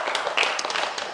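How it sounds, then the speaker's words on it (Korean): A church congregation in a Korean Sunday service gives a short burst of applause, dense overlapping claps throughout with no speech. "다시 한번 박수로 격려하겠습니다"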